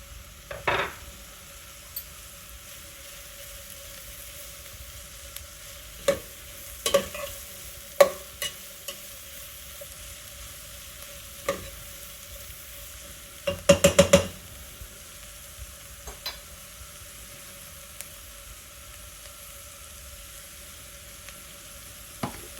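Minced garlic hits a pan of frying onions and peppers for chicken corn chowder, giving a faint, steady sizzle broken by a few sharp clinks and scrapes of stirring.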